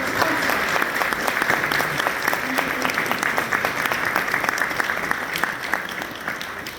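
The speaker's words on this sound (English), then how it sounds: "Give me a big round of applause to all our sponsors" A crowd gives sustained applause for the sponsors at an AWAKEN charity gathering, a dense, steady wash of many hands clapping at an even level for several seconds before easing slightly at the end.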